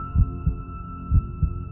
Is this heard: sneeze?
no